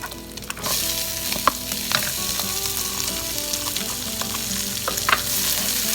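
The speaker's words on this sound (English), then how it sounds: "So just cook that in the pan on a medium-high heat for a few minutes until it's crispy." Bacon crisping in a pan over medium-high heat, steady close sizzling and spitting with occasional pops and scraping stirs, no voices.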